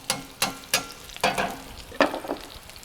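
Meat browning in a pan seasoned with salt and turmeric: a sizzle punctuated by about six sharp clanks and scrapes at irregular intervals, close up, with no voices.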